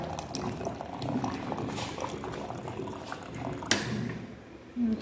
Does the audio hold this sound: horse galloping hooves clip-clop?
no